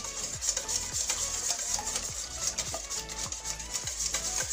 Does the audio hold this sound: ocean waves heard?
no